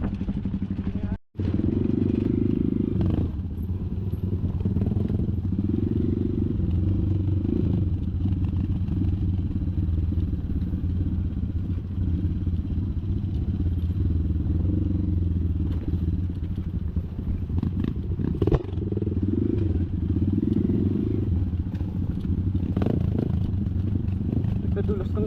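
An enduro motorcycle riding a trail, the engine droning loudly and continuously with revs rising and falling, plus clatter and scraping from the terrain, while a rider speaks over it.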